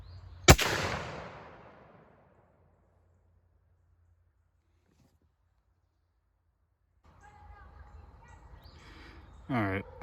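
A Thompson Center muzzleloader rifle fires a single loud, close blast that rolls off into a long fading echo, followed by several seconds of near silence before outdoor noise and faint chirps return.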